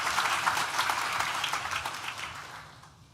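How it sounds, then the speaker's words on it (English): Audience applause at a university graduation ceremony, a dense burst of clapping from a hall crowd that fades away over a few seconds. "let's do a round of applause to you."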